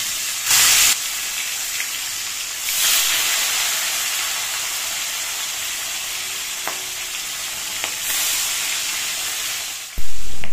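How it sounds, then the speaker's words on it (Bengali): Fish fries in a pan on a home kitchen stove, giving a steady, loud sizzle and hiss that rises in brief bursts as the fish is moved or stirred. "এবার মাছটা ভাজা হোক,"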